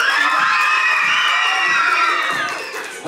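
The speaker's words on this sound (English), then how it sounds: "let me hear you make some noise." A school auditorium audience of young students shouts, cheers and whoops loudly in a sustained roar that fades slightly near the end.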